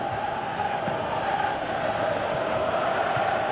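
Stadium crowd in a football video game on PS4, a dense continuous roar and murmur at steady level, broad and distant-sounding with no distinct cheers.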